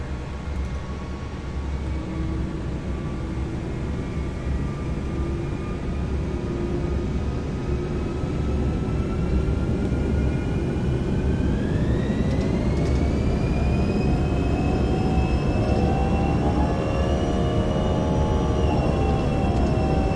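Airbus A319 jet engines spooling up on the takeoff roll in a flight simulator game, a steady loud roar with a whine rising in pitch partway through and holding high, heard alone throughout.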